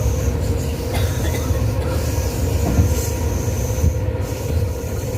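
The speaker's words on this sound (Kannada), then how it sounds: "ಅಲ್ಲಿ ಬರಕತ್ತ ಕಾಣುತ್ತಲ್ಲ, ಅಲ್ಲಿ ಬಿದ್ದೈತ ಲೈಟ್, ಅದೇ ಟ್ರೈನ್" A train rolls into platform 7 at Belagavi railway station, a steady heavy rumble of wheels and carriages with faint squeals and clicks, loud and continuous, without speech.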